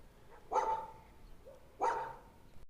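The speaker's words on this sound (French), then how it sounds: "il y a des chiens maintenant" A dog barks twice beside a river in Catalonia, two single sharp barks about a second and a half apart, moderately distant against quiet outdoor ambience.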